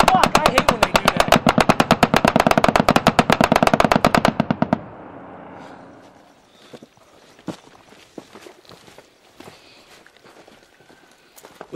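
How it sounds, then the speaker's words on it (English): Gunfire from a distant shooter several hundred meters away at a combat outpost: a rapid burst of loud repeated shots for about four seconds, then scattered fainter cracks and rustling. "we can't pick up on one guy who's sitting 800, 700 meters away from us, shooting at us"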